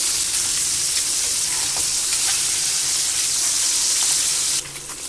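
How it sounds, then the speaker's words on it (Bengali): Pieces of katla fish fry in oil in a pan with a steady, loud broadband sizzle, faint crackles and spatters through it, easing slightly near the end. "মাছটা আরও একটা পিঠ ভাজা হয়ে গেল"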